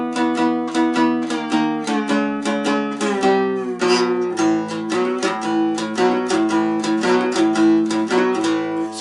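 A two-string cigar box guitar plays a twelve bar blues line, a steady run of plucked, ringing notes with bright harmonics that walks back toward the first chord, loud and close with no talking.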